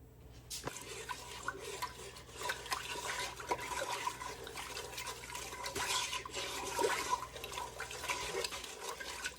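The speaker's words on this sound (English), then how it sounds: "we're going to bring this up to a boil" A pot of liquid being brought to a boil on the stove, giving a steady, dense bubbling and rushing hiss that grows slightly louder, heard close and without talk.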